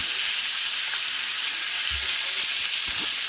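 Ribeye steak sizzling in a pan during cooking, a steady bright frying hiss that runs unbroken throughout, with a couple of faint low knocks underneath and no one speaking.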